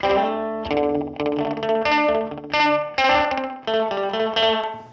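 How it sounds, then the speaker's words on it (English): An electric guitar plays a series of plucked notes and chords with a short, quick echo repeating each attack, giving a doubled, bouncy slapback feel. "So you can get kind of slapbacky."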